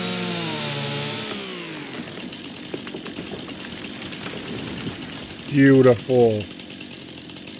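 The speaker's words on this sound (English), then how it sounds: "I'm not the best at this chainsaw, but we'll see if we can manage" Chainsaw cutting into a tree in the forestry work of Farming Simulator 25, a steady buzzing drone that drops off near the two-second mark, followed by two short loud revs near the end, with a brief spoken word over it.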